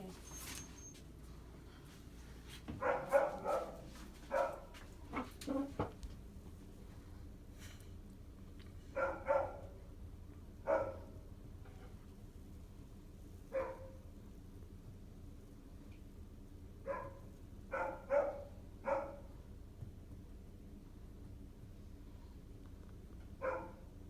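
A dog gives short, scattered yips and whimpers while undergoing a veterinary exam for temperature, pulse and heart rate, the bursts sparse and close against a quiet room.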